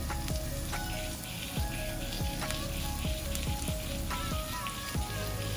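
Onion and scallion sizzle in hot oil in a pan for Jamaican brown stew fish, a loud continuous frying hiss dotted with crackling spits and pops, close up, no speech.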